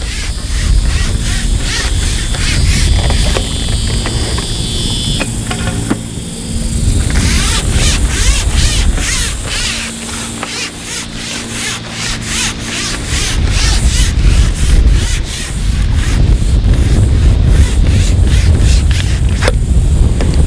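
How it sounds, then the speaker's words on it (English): Strong wind buffets the microphone at a March fishing match, a loud continuous low roar with broadband gusts and rustling that swell and ease over about twenty seconds, no talking. "Wind's getting up as well for some reason."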